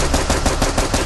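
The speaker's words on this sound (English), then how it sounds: "We're getting active gunfire." Rapid bursts of gunfire crackle in quick succession, loud and close, with several sharp reports packed into about a second.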